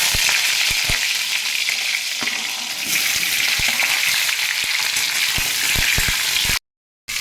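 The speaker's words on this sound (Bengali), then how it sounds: "এবারে আমি কেটে রাখা কামরাঙাগুলো দিয়ে দিচ্ছি।" Cut starfruit frying in oil with tempering spices for a pickle, a loud, continuous close sizzle with scattered pops and stirring knocks, cutting out briefly near the end.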